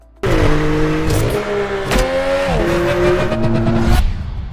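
A loud Alfa Romeo 33 Stradale supercar engine roars close by, revving up through several quick gear shifts in one continuous pull.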